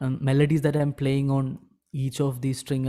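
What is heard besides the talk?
No everyday noises stand out.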